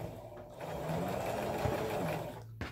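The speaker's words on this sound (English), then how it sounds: "I'm still going to continuously sew this, but I still backstitch." A sewing machine stitching fabric for a quilt block runs in a steady, close, continuous whir that starts and stops, with no talking.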